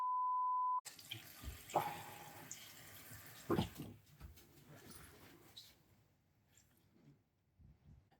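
Water running from a tap into a sink while a heavily inked pen is rinsed clean, an uneven splashing flow with clunks and handling noise after a brief steady tone, tapering to drips.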